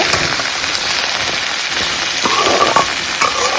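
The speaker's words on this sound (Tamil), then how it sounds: "மீடியம் ஃப்ளேமில் வச்சு இதை நல்லா வதக்கி விடுங்க" Steady, hissing sizzle of okra sautéing in hot coconut oil over medium flame, continuous throughout with a few faint scraping stirs.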